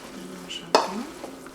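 A spoon stirs a quinoa salad dressed with a drizzle of oil, giving one sharp close scrape and clink followed by a short soft rustle of grains, with no talking.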